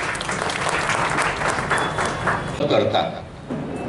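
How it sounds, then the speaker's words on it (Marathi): An audience at a district library festival in Akola applauds, dense clapping filling the hall before thinning and fading toward the end, with crowd murmur mixed in. "अशा ग्रंथालयासाठी आणि त्याच्या व्यवस्थापनासाठी सुद्धा टाळ्या झाल्या पाहिजे"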